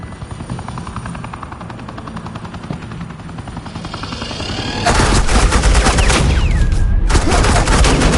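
Dense rapid gunfire from Batman: The Enemy Within bursts in loud and close, layered over a steady helicopter rotor drone, with a brief pause and then renewed shooting.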